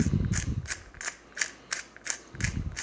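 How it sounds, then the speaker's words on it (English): A small hand-cranked mill grinding black pepper makes a steady rhythmic series of close ratcheting clicks, roughly three per second, with no talking. "I got a little crank mill here. So I'm gonna put in about 25 cranks."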